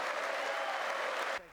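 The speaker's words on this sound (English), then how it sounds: "applauding the success of Republican tax cuts and opportunity zones" Sustained broadband clapping from a large audience in the US Congress chamber during a State of the Union address, steady and dense for over a second before cutting off abruptly near the end.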